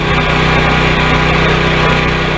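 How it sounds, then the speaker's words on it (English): A portable generator's small engine runs loudly and close, producing a dense, steady buzzing drone with no pauses and no voices. "Some generators are pretty loud,"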